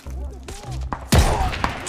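Call of Duty: Vanguard gameplay in a winter mission, with a loud sudden burst of gunfire and impacts after a quieter stretch. A player speaks through the clip.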